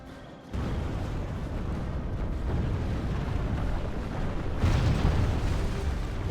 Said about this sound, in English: That was a catapult breach.